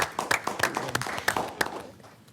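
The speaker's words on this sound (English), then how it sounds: "Can we just applaud these young people" Scattered clapping for young people at a county board of commissioners meeting, a few distinct close claps in an irregular rhythm that thin out and fade after about two seconds.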